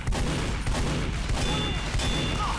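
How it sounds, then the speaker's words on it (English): Rapid, loud gunfire bursts from a Scout's scattergun in the Team Fortress 2 video game, dense overlapping shots filling the whole stretch with constant battle noise and no clear pauses. "I can't hit any of these scattergun shots"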